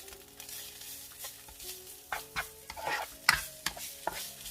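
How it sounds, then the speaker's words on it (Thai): Naem, Thai fermented pork, stir-fried in a pan over raised heat, giving a low crackling sizzle with several sharp scraping stirs of a utensil that grow louder toward the end. "ยูจะผัดแหนมให้หอมเลยนะคะยูจะเร่งไฟนิดนึงนะคะ"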